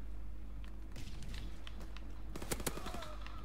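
Pistol fire in Call of Duty WW2, several sharp shots ringing out over game background noise, with a quick cluster of cracks near the end.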